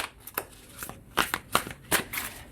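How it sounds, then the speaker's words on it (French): Light Seers Tarot cards being shuffled by hand, a run of crisp riffling bursts and soft slaps coming in uneven clusters, close and fairly quiet with no talking. "je commence par tirer 3 cartes du tarot"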